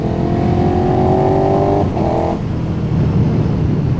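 KTM 1290 Super Duke R motorcycle engine running steadily up close, with a strong droning tone that drops out briefly near the middle, then rough popping and crackling backfires on the overrun as the engine note falls away.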